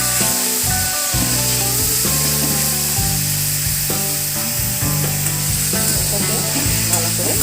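Salted mushrooms fry in a pan, a loud continuous sizzle filling the whole stretch, broken by scraping stir strokes and light clinks of a utensil against the pan.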